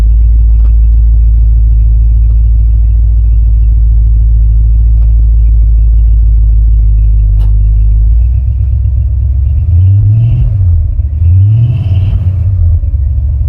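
A Ford Galaxie 500's engine idles with a loud, close, steady low rumble, then revs up and down twice in quick succession near the end.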